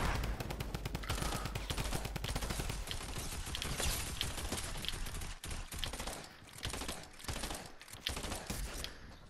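Burst-fire SMG shots in an online shooter game, loud and continuous with rapid short bursts repeating throughout and a few brief pauses.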